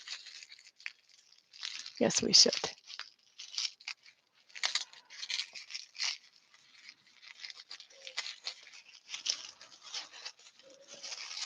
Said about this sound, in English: We should untape it, shouldn't we?